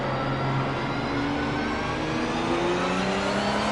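A race car engine in the Project Motor Racing video game drones loudly and steadily, its pitch climbing gradually under acceleration with no pauses or voices.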